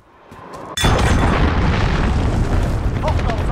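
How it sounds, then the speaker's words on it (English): A cruise missile explodes in the video game Call of Duty: Modern Warfare during a Domination match, an abrupt loud boom that gives way to a long, dense roar of rumble and debris while game voice callouts sound. "Enemy cruise missile incoming!"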